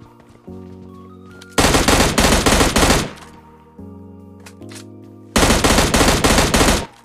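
An M60 machine gun fires in PUBG Mobile Lite in two loud, rapid bursts of about a second and a half each, separated by a pause filled with background game music.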